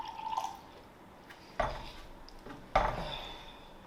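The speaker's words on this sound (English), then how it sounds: "Get you a quick pour. Ooh, that's a nice pour. It's got a nice sound to It" Dasani bottled water poured into a glass, a soft trickle followed by two sharper close splashing knocks as the stream lands, faint and alone with no talking.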